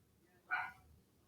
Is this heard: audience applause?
no